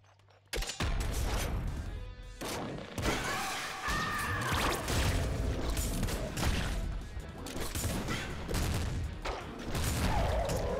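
Rapid gunfire and crashing impacts in the roguelike shooter Nuclear Throne, a near-continuous barrage of loud shots and blasts with whooshing effects over about ten seconds.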